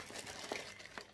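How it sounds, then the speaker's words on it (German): A large plastic bag is set down beside a backpack, giving a few quiet, brief crinkles and rustles. "Dann legen wir hier die große Tüte mal neben hin"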